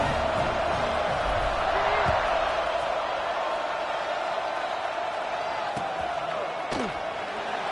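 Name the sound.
football stadium crowd buzzing after a score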